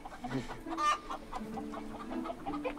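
A chicken clucks in short, irregular bursts, fairly faint and close, with a few soft background noises around it.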